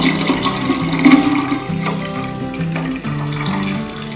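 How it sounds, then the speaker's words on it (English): Sugar syrup for homemade lemonade pours through a sieve into a jar, a loud, close, continuous liquid gush and trickle with no talking over it. "I'm going to pour the lovely sugar mixture through a sieve into the jar."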